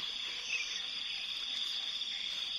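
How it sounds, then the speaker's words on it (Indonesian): Crickets keep up a steady, shrill high chirring at dawn in a memorial park, a dense continuous drone with a hint of a faint bird call, and no voices. "ada bunyi-bunyi jangkrik, burung ya kan, yang saling bersautan"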